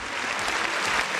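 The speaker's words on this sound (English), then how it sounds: "Clap for me." Steady applause from a group of people, dense continuous clapping held at an even level throughout, with no talk over it.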